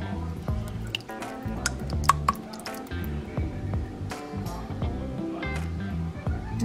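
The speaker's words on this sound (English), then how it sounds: "And we're gonna pour our pasta sauce in." Thick pasta sauce glugs and plops into a pot of meat in uneven bursts, with wet squishy drips between pours.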